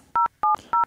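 Three short, evenly spaced touch-tone beeps sound as a telephone is dialed to call an electrician, clean, loud and close.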